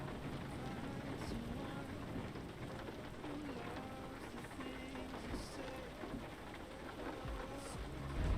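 Rain drumming on the roof of a parked truck cab in Euro Truck Simulator 2, a dense steady patter of drops with low thunder rumbling, constant and close, with a voice talking underneath.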